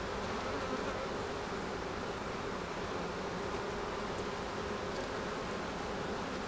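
A dense, continuous hum of many honeybees crawling over hive frames in a Quebec apiary, steady and close throughout with no talk.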